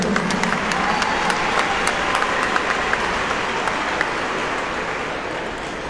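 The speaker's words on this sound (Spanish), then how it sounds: "Un fuerte aplauso para ellos." Crowd at a school sports games opening ceremony in La Unión, Antioquia applauding school teams, a sustained wash of clapping with sharp individual claps standing out, steady and moderately loud, slowly easing toward the end.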